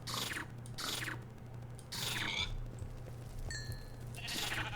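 Sheep bleat in a video game, a few short bleats spaced over several seconds against a steady low background hum, with chewing-like crunches mixed in.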